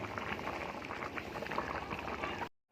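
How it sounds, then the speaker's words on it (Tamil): Thick chicken curry bubbling steadily in a pot, a dense continuous simmer of popping bubbles at close range that cuts off abruptly near the end. "நல்லா கொதிச்சுக்கிட்டே இருக்குது"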